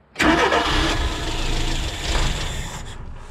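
A cold engine with a freshly cleaned carburetor cranks and catches abruptly, then runs loud and steady at a rough idle before cutting off near the end.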